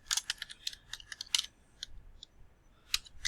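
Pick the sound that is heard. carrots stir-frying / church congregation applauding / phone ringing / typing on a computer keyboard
typing on a computer keyboard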